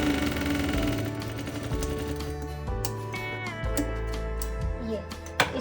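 A sewing machine stitches along a half-inch double-folded fabric hem with a steady, close mechanical whir and rapid needle rhythm, pausing and restarting briefly.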